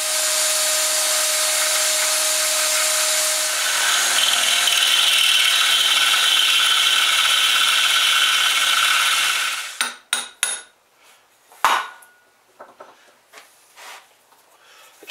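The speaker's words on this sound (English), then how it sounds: "let's drill some holes" A power drill bores holes in a metal mud flap bracket, a loud, steady, high whine lasting about ten seconds that shifts pitch as it bites, then cuts off into a few clanks and scraping knocks.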